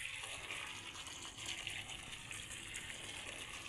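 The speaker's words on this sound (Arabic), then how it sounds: "هانتوما البنات غادي نخوي عليه الماء طايب" Boiled water poured over washed food, a steady rushing gush of liquid that holds for a few seconds without pause.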